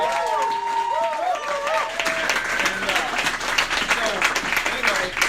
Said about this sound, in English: give a big freaking round of applause for Devin for being the most diligent